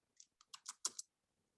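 Quick burst of about six light key presses on a computer keyboard entering a shortcut, faint and close, with silence on either side.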